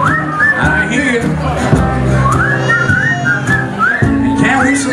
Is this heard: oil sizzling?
no